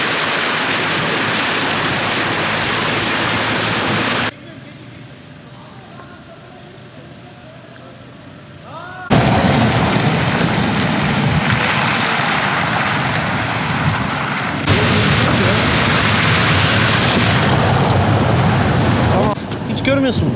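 Floodwater from the Meriç river rushes across a city street near the forest, a loud broadband roar of moving water that drops away briefly midway, with voices talking over it.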